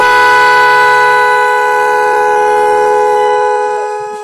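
A car's multi-tone magic horn sounds its first siren-like tone, a loud, steady, piercing wail held close for about four seconds before fading out.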